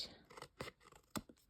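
Paper being trimmed with scissors for a layered handmade thank-you card, giving a few short close snips and scrapes about half a second apart, quiet with no talking.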